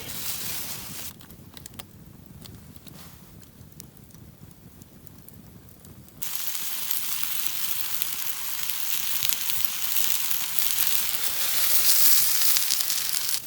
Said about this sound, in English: Let's start by frying the chicken.